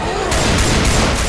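Dense, continuous shooting in Left 4 Dead 2 during a custom map finale, a loud, unbroken wash of overlapping gunfire with booming chaos throughout.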